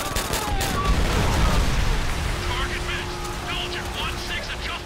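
Battle in Call of Duty: World at War with dense overlapping gunfire and crackling bursts under a steady roar, loud at first then thinning, while a player talks in the background.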